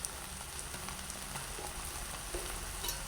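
A pot of water boils on a stovetop during oil-free home cooking, giving a steady, close bubbling hiss with soft crackles throughout and no talking.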